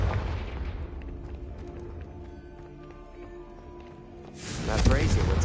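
The Confringo fire spell goes off in the Hogwarts video game as a booming blast that decays into a rumbling tail, followed by a second loud burst near the end.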